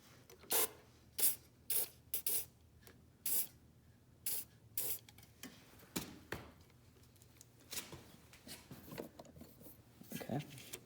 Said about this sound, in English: Maybe we spray some WD-40.